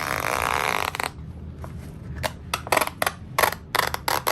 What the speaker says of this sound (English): I'm going to use my seam ripper to cut open the